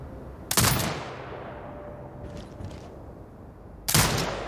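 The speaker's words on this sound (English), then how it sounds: "Exit binocular mode and command the turret to fire" Two loud, sharp turret shots from the video game Sniper Ghost Warrior Contracts 2, a few seconds apart, each a sudden broadband crack with a short decaying tail over quiet ambient game sound.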